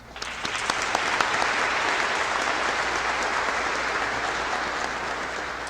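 A graduating class at the Pittsburgh Institute of Mortuary Science commencement gives the faculty a round of applause, with sharp claps building into a dense, steady ovation that holds for several seconds.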